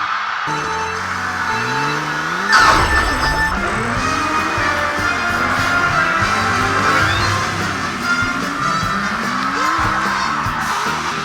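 Video game kart race car engine, whining and rising in repeated pitch sweeps as it accelerates and shifts, with a burst of skidding noise early on, loud and continuous throughout.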